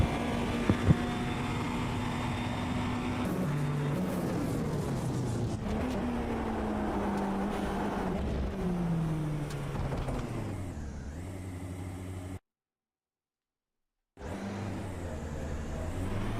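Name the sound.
P2 prototype race car engine starting, racing video game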